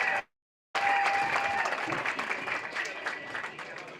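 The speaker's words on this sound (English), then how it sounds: "Let's give him a nice round of applause." Steady audience applause at a Limousin cattle auction, a full, even round of clapping from a crowd after a brief silence, with faint voices beneath.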